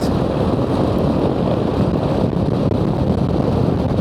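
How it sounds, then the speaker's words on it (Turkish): Loud, steady wind roar buffeting a microphone on a rider of a Honda ADV 350 motorcycle, low and rumbling throughout with no voices. "Şu sol ve sağda omuzlardan evet rüzgar alıyor."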